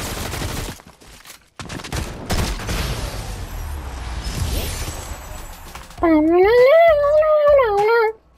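Gunfire from shotguns and snipers rings out in a Fortnite match, sharp bursts and shots scattered through the clip, with a voice speaking in places and a tonal in-game sound near the end.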